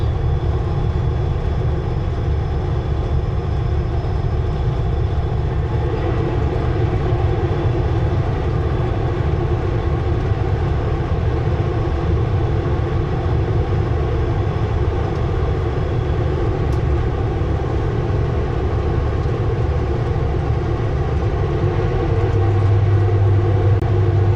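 A truck hauling a huge granite rock grinds through gear changes on a steep descent, its engine a loud, continuous, heavy drone that stays close and unbroken throughout.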